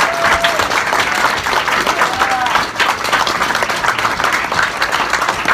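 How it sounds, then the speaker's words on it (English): An audience applauds steadily to thank a group of supporters, a dense wash of many hands clapping at even loudness throughout, with a few faint voices mixed in. "give these guys a clap just to say thanks for all their great"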